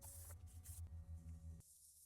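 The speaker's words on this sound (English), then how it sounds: "Finally gonna spray everything with brake parts cleaner." Short bursts of aerosol brake parts cleaner spraying on a 2013 Subaru Outback differential, in quick succession, then one longer continuous spray, close by and fairly quiet.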